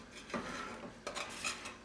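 A metal spoon scrapes and clinks against a stainless steel pan while something cooks for breakfast burritos, heard as two or three close, sharp metallic scrapes over a faint background hiss.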